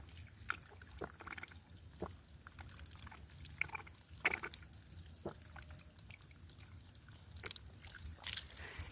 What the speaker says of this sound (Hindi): पत्थर पे कुछ इस प्रकार से पानी निकल रहा है।